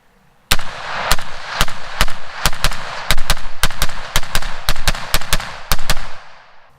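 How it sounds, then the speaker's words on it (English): Rapid semi-auto rifle fire from a rifle with a tanker-style muzzle brake, shooting cheap Tula 150 grain ammunition: about twenty loud, sharp cracks in quick, slightly uneven succession, each with a short ringing tail. "So we have 20 rounds of Tula, 150 grain in here. Let's go ahead and see how it does."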